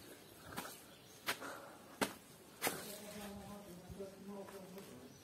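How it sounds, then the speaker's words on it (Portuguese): Wasp in the dry backcountry at dawn, a faint wavering buzz in the background broken by several sharp knocks, with a soft hum rising toward the end. "Deixa o marimbondo."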